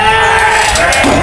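Sheep bleat while eating feed in a pen, the calls sitting within a loud, dense wash of flock and barn noise throughout.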